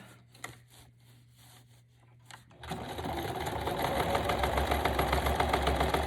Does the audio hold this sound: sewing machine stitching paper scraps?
yes